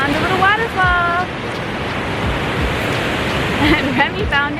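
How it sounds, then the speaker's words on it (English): A small waterfall on a nature hike makes a steady broadband rush of falling water, with voices and chirpy speech-like sounds breaking in over it. "We found a little waterfall."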